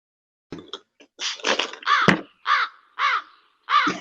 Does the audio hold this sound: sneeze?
no